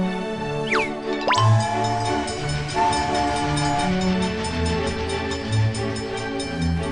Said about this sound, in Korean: 호기심 열차 출발!